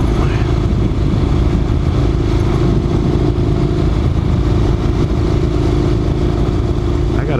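Honda NC700X motorcycle riding along a sandy hunting camp road, its mid-pitched engine droning steadily and close throughout with a rumbling low end and no talk.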